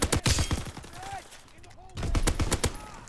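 Bursts of light machine gun fire from Call of Duty WW2 come in two clusters separated by a brief lull, with a voice speaking over the shots.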